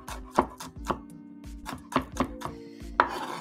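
A kitchen knife chops an onion in a steady run of crisp, close blade strikes on a cutting board, several distinct chops a second with no talking.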